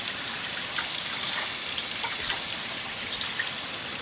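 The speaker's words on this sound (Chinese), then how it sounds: "再要水了，给它整出来， 给它冲洗一下，因为它还有一些浮沫" Braised pork head meat rinsed under a running tap, with a continuous steady gush of water splashing close by and no other sounds.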